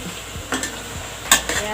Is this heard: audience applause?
no